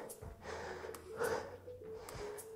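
A person takes deep breaths during a rest break in an exercise session, a few audible breathy inhales and exhales, quiet and close, with no talking.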